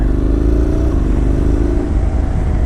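A 2016 Honda NC700X with automatic transmission on a test ride, its engine droning close and steady with a low rumble and a slight drop in pitch partway through, under continuous wind noise.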